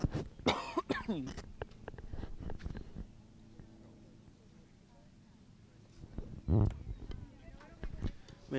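A man coughs close to a sensitive microphone at a high school softball game, a burst of harsh coughs near the start and another loud cough later, with brief talk and faint outdoor background between.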